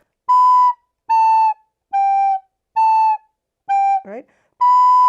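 Six separately tongued recorder notes on the same pitch, each held about half a second with short gaps, clear and close; a brief sliding squeak interrupts before the last.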